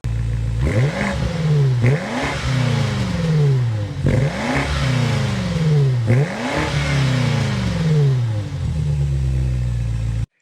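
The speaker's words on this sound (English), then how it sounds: "start it up, so you can hear that exhaust note" A 2025 BMW M5 twin-turbo engine revved repeatedly, four or five rising exhaust roars each dropping back to a rumbling idle, loud and close.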